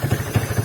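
Motorcycle fitted with an AWR 40cm aftermarket exhaust and a dB killer, idling with a low, steady, muffled pulsing burble close by.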